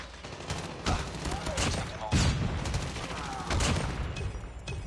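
SMG fire in Call of Duty Mobile, with dense, loud rapid bursts of automatic gunfire that repeat throughout, mixed with game sounds.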